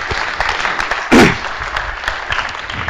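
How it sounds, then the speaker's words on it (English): A conference audience applauds a speaker in a brief burst of clapping that swells and fades within a second, set against room murmur. "let's give a big applause for the first speaker"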